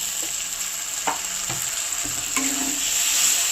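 Spices sizzling steadily in a pan while being stirred and worked for fish roe curry, with a few scraping clicks of the spoon over the constant close frying hiss.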